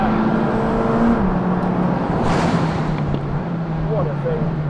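McLaren Senna engine under way, a loud continuous drone whose pitch holds, dips slightly after a moment and then settles lower, with a brief burst of higher noise midway and no voices.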